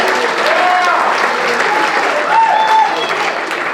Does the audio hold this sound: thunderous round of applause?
yes